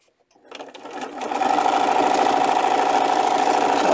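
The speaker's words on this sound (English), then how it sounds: "Stitch all the way down." A sewing machine stitches a cloth face mask, starting up after a brief pause and then running in a steady, fast, close-up whir.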